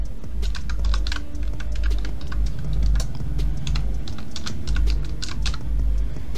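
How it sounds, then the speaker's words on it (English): Email address being typed on a computer keyboard: a steady, close run of quick key clicks and taps with an irregular rhythm, continuing throughout with no voice. "then I'll type my email address"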